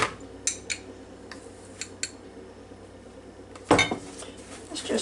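A spoon knocks and scrapes against a bowl while sifted flour and sugar are stirred together, making a few scattered clinks and one louder clatter near the end over quiet room tone.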